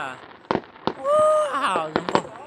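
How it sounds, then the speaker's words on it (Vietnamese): Fireworks bursting over a city on Lunar New Year night, sharp pops and cracks at scattered intervals, some near and loud, with excited voices talking and exclaiming throughout. "cả một cái thành phố bắn pháo hoa nhá"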